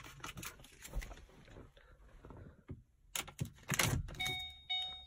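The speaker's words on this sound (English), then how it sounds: "Car keys." A set of car keys jangling and clinking up close in a quiet room, short scattered rattles among shuffling and rummaging, with a person talking now and then.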